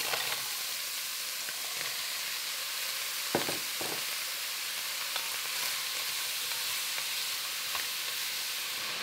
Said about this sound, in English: Next, we'll add the ham and our pearl onions.